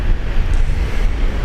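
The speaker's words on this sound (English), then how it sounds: "this wind's picking up" Strong wind at Brisbane International Airport buffets the microphone in loud, gusty low-frequency rumbles, steady and close throughout.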